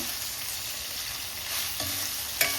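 Dried prawns fry in a pan with a constant close sizzle and hiss, broken by a couple of brief knocks from stirring, and nobody speaks.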